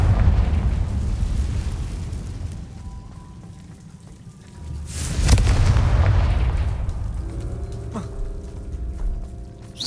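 Confringo blasting curse explosion in the video game Hogwarts Legacy, cast inside an old abandoned room: a loud, close burst erupts mid-clip and rumbles over a constant crackling background, with tonal magic shimmer afterward.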